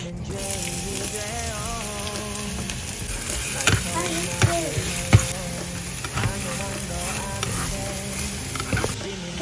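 Beef with onion and garlic sautés in a pan, a continuous close sizzle with clinks and scrapes of stirring that grow busier midway.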